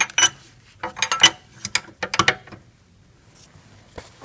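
A wrench works on the fan clutch of a Mercedes ML350 W163 with a pulley holder, producing close, irregular bursts of metallic clicks and rattles separated by short pauses, with no talking.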